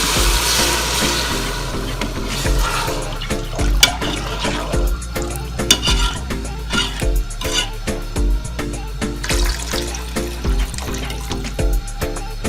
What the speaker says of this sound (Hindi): तकरीबन 2 गिलास पानी हमने इसमें शामिल किया है।